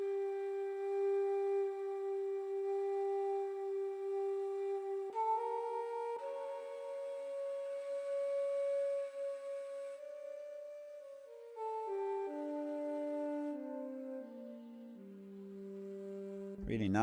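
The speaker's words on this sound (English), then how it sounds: "I think what goes here is that the flutes gets more air pressing inside of it, and it sounds like this." A synthesized flute patch played with polyphonic pressure sustains soft, breathy held notes that swell and shift, with the line stepping down through several pitches and ending in a short noisy burst.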